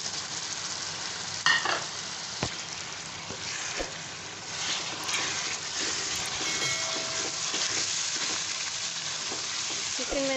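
Chicken frying in a pan for a sohanjna chicken dish gives a loud, continuous sizzle with a few sharp clinks of a utensil and no voices.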